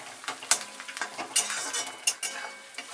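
Chopped onion and peanuts dry-roasting together in a pan, a soft steady sizzle broken by repeated scraping stirs of a spatula against the metal, close and fairly quiet.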